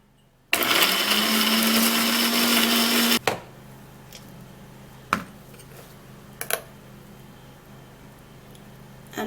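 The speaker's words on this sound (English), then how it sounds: "we're gonna blend this all out." A blender runs loud and steady for about three seconds, blending a banana peel mixture, then cuts off, leaving a few faint knocks and clatters in a quiet room.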